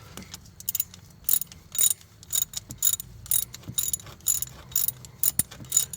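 Socket ratchet tightening a bolt on a starter bracket of a 2009-2014 Hyundai Sonata, close-up bursts of rapid clicking in short irregular strokes, with brief quiet gaps between them.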